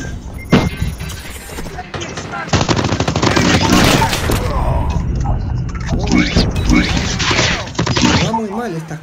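Rapid, loud gunfire from a video game shotgun and other weapons, with bursts, booms and crashes filling the whole stretch while people talk over it.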